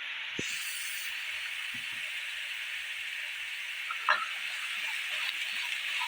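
Stuffed bitter gourds (karela) roast in a pan over raised heat, producing a continuous hissing sizzle with a few soft knocks from stirring or turning.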